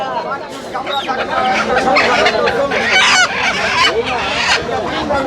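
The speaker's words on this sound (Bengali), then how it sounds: "চাচা হাঁস মুরগি নিয়ে আসছে এক খাঁচা ভরে হাঁস মুরগি" At a rural Bangladeshi market, a cage packed with ducks, chickens and roosters gives off dense, overlapping clucks, squawks and honking calls close by, while people talk among the birds.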